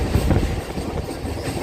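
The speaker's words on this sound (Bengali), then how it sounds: "এই আহমদপুর জাংশন থেকে এবার আমাদের ট্রেন ছেড়ে দিল" A passenger train pulls out of Ahmedpur Junction, its carriages rumbling loudly with a deep, steady roll and faint rattling of wheels on the rails, no speech heard.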